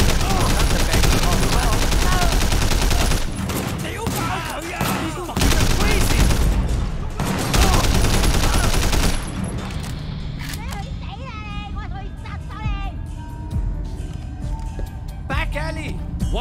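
Assault rifle gunfire in the video game Sleeping Dogs comes as dense, loud bursts of rapid shots over the first several seconds. It thins into scattered shots and game dialogue, with someone talking over it.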